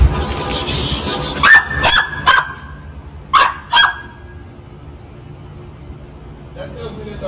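A Dutch Shepherd puppy in training barks loudly and close by: five sharp, ringing barks in two quick clusters, then quiet apart from a faint higher sound near the end.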